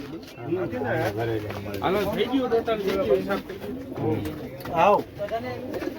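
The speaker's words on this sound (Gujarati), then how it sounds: "આમાં કબૂતર ભર્યા છે." Caged pigeons coo repeatedly in soft, rolling phrases close by, mixed with people talking over them throughout.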